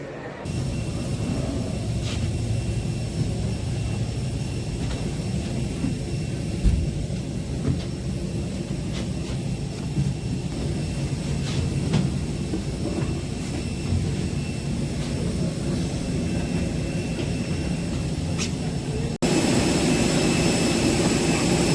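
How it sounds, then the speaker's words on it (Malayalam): Jet engines of a passenger airliner drone steadily inside the cabin, a constant broadband rumble with faint clicks, growing slightly louder and brighter near the end. "നമ്മൾ ഫ്ലൈറ്റിലാണ്."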